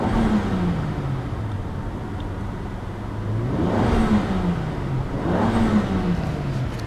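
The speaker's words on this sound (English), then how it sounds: "I love the way this engine sounds." A 2012 Volvo XC70 T6 Platinum engine revs up and back down several times in a row, loud and close. Each rev rises in pitch and falls away, over a steady idle, with no talking.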